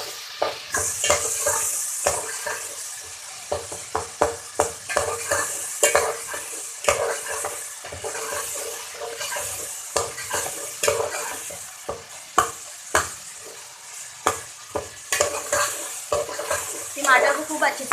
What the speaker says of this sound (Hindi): टमाटर को खूब अच्छे से भून लेंगे।